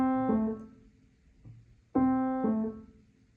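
Two slurred piano notes, C falling to A, from Schumann's The Wild Horseman, played twice with a short pause between, each attack clear and ringing briefly before decaying, solo and close.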